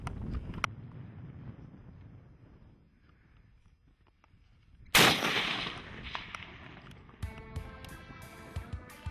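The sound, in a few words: gunshot from .270 short mag hunting rifle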